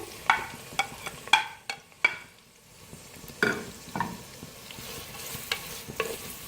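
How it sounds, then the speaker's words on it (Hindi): Soft sizzling of sliced onions frying in oil over a medium flame, with occasional stirring scrapes and clicks from a utensil in the pan. "मीडियम फ्लेम पे हम प्याज को पहले फ्राई करेंगे"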